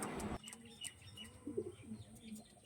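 Tournament-grade pure Gola-line pigeons coo in soft, low, intermittent calls after a short, loud burst of noise at the start, with faint chirps and background hum.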